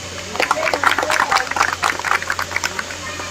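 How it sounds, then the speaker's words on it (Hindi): Scattered hand clapping from a community meeting audience of the Chandigarh Garhwal Sabha, sparse and uneven over a low steady hum, with a few louder claps near the front. "मैं एक बार फिर से भाई साहब के लिए ना एक तालियां चाहूंगा"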